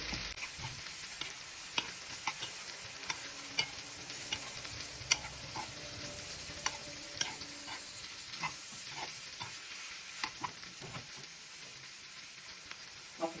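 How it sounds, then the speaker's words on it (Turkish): Meat and vegetables sizzle in a pan with olive oil while being stirred, a steady hiss of frying with scattered utensil scrapes and taps against the pan, close and continuous. "sebzelerimle etimin birbirine karışması için iyice karıştırıyorum"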